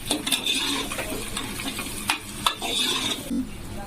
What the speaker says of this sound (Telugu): ఇలా ఆదండకాయలను వేసి ఫ్రై చేయాలి